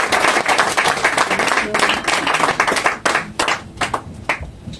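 Church congregation applauding the Lord, dense continuous clapping from many hands that stays loud and close throughout, breaking into more scattered claps toward the end, with a few voices mixed in.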